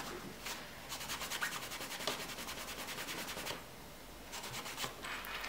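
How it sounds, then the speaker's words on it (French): A leather pouch is sanded and polished by hand, giving soft, close, rhythmic rubbing strokes in repeated bursts with short pauses, without speech. "L'asticage, ça comprend toutes les étapes du ponçage à la cire finale"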